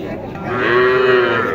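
A calf or young bull at a busy cattle market in Naogaon gives one sustained, fairly loud moo, rising and holding steady before fading, over a murmur of crowd noise.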